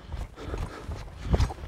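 Soft hoof thuds on soft ground, irregular, with a heavier pair of steps near the end.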